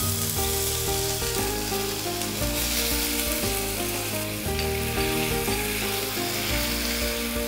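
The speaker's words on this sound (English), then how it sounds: "Waiting for the oil to get heated, we add in the garlic ginger paste." Garlic ginger paste fries in hot oil with a loud, steady close sizzle, partly under background music with sustained tones.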